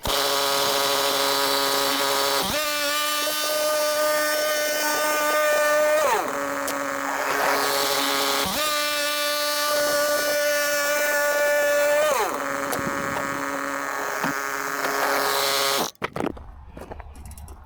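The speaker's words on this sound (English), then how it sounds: "Then the motor just starts up" Motor of a Frontier OS23 sawmill runs steadily and loud, with two rising pitch sweeps as it revs up under load, then cuts off abruptly near the end.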